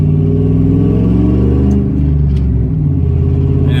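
Old scrap hauler truck with a straight shift on a test drive: a loud, close engine rumble that holds steady, with the pitch easing up and down as the revs change, and no talk.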